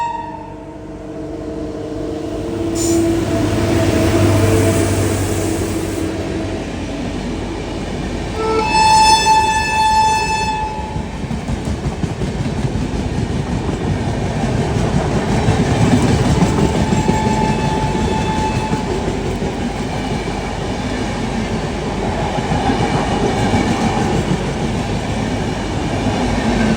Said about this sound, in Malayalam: ഇപ്പോൾ പോയത് ഭുവനേശ്വർ ചെന്നൈ സൂപ്പർ ഫാസ്റ്റ് ആണ് കേട്ടോ.